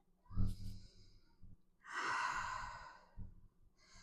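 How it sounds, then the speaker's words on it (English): Slow, deep breaths during a lower-body workout stretch aimed at the glutes: a few audible inhales and a long, loud exhale in the middle, close to the mic, with no speech. "deep breaths into that glute."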